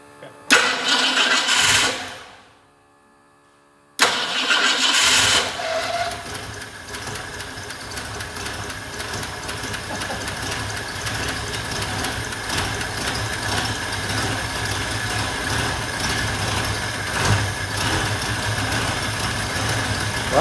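A 1965 Ford Mustang V8 that sat unused for decades cranks briefly, cuts out for a moment, then fires and settles into a loud, steady rumbling idle that runs on alone for a long stretch.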